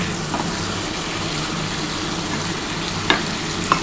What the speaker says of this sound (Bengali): দেখো ডিমটা দিয়ে ভালোভাবে কষিয়ে নিচ্ছি।